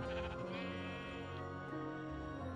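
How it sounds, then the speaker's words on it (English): Sheep bleat in the video game Minecraft, a steady, loud run of layered bleating that fills the whole moment with no talking. "I built an additional area to house some sheep,"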